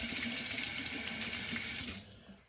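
A multi-blade manual razor rinsed under a running tap, a steady close rush of water that cuts off near the end.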